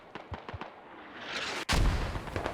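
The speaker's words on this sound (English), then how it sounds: "the mortars are actually dialing in on the MTLB" Mortar fire in the military shooter game Squad, with rounds zeroing in on an MTLB armored vehicle: a few muffled thuds give way to a loud, heavy blast with a rumbling, crackling aftermath.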